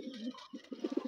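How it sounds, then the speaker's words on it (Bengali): A young pigeon chick gives soft, close cooing calls, a short run of low murmuring coos that grows more pulsed toward the end. "আমার কবুতরের বাচ্চা"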